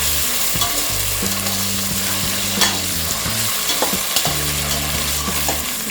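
Ginger garlic paste and long-slit green chilies hit hot oil with fried cashew nuts for a one-pot veg masala pulao, sizzling steadily and loudly while a spoon stirs and scrapes the pan in short repeated strokes.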